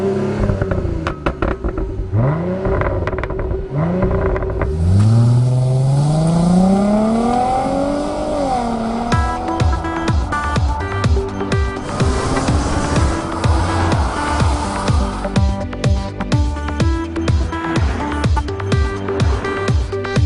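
A 2013 Mercedes-Benz SL350 drives along. The engine rises through several upshifts with pitch sweeps, then settles into a steady, loud cruising drone with rhythmic road thumps.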